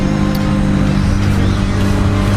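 A Honda CBR 125 motorcycle engine held high in the revs, a loud, close, steady drone with no pauses.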